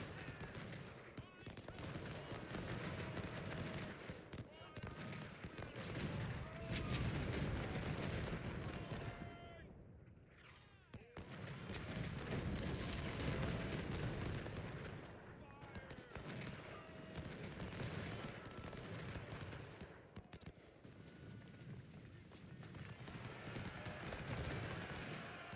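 Battle sounds from the video game Ultimate General: Civil War: dense, continuous volleys of musket fire and cannon booms rolling on throughout, with a brief lull midway, heard faintly at low level.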